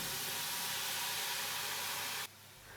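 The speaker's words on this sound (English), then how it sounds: "Lots of steam." Steam hisses loudly and steadily in a preheated oven as sourdough goes in, then drops abruptly to a softer, duller rush.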